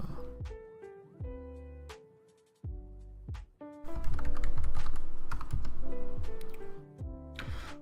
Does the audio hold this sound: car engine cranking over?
no